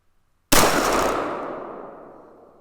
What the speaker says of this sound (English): go ahead and load up 5 more and make this a 10-shot group